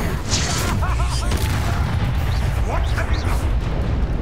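A Confringo blasting spell goes off in Hogwarts Legacy: loud, heavy booming bursts over a dense roar of game noise, with a voice talking over the blasts.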